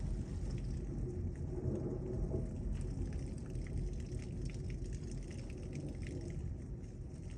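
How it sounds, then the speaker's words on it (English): Hail and rain pound down during a severe thunderstorm with high winds in Lubbock, a dense, steady roar of close impacts that holds at the same loudness throughout without any voices. "There's hail."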